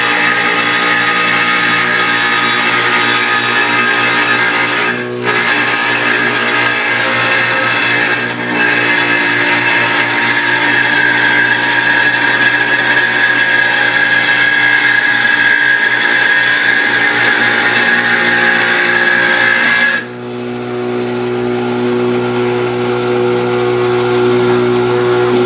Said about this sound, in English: We're going to power up, we wait for it to reach full speed, and then begin the cut